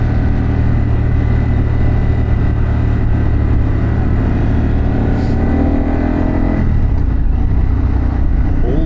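A 2024 Harley-Davidson Pan America motorcycle with a Vance exhaust runs loud and close, a dense throbbing engine rumble that holds steady, then dips in pitch near the end as it eases off.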